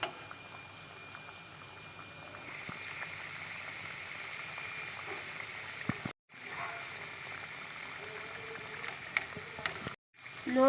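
Khaja pastries deep-fry two or three at a time in oil over low heat, giving a soft, continuous bubbling sizzle that runs steadily, broken by two brief silent gaps.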